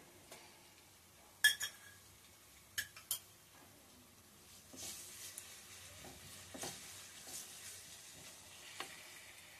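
Browned onions with ginger-garlic paste frying gently in oil for a mutton curry, a faint low sizzle under occasional sharp clinks and scrapes of a spoon against the pot, quiet and close without speech.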